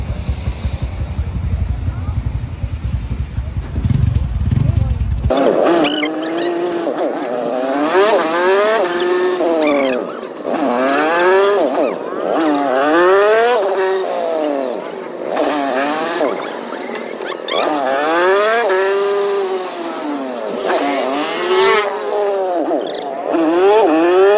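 Onboard a motorcycle tricycle while riding, the engine drones loud and close with repeated rising and falling revs as it shifts and accelerates, wind rushing over the mic.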